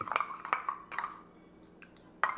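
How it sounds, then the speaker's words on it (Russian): A spoon stirs a salad dressing of oil, dried herbs, black pepper and coarse salt in a dish, giving a few sharp clinks against the bowl with a quiet pause between them. "Щепотка крупной соли по вкусу и все тщательно перемешиваем."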